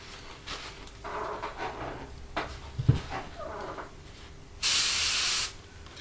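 An airbrush sprays paint onto a 1/48 Revell F-15E Strike Eagle model kit in short hissing bursts, several quiet passes then one louder sustained spray near the end, with small handling knocks between.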